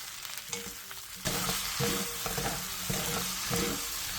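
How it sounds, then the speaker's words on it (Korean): Zucchini and shiitake mushrooms stir-fried over medium heat with minced garlic and salted shrimp, a steady close sizzle that grows louder partway through, with repeated stirring and scraping strokes and no talk. "다진 마늘 1스푼, 새우젓 반 스푼을 넣고 중불에서 볶아주세요."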